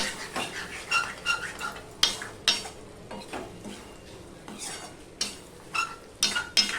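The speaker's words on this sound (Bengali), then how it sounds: "গরম মশলাটা দিয়ে সম্পূর্ণটা আমি মিশিয়ে নিলাম" Okra being stirred in a pan as garam masala is mixed in, with irregular scraping clinks of a spoon against the metal and soft rustles between strokes, close and fairly quiet.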